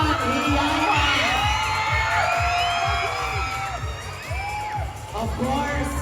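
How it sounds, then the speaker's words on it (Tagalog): A large crowd awaiting Vic Sotto and Vice Ganda at a movie event cheers, whoops and shouts continuously, with high rising yells over a steady rhythmic thumping beat. "palakpakan na may kasamang hiyawan"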